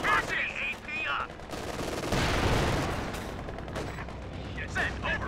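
Gunfire in Company of Heroes 2: rapid machine-gun bursts and heavy shots crackle loudly, with a big booming blast in the middle. Brief shouted voices come in between the volleys.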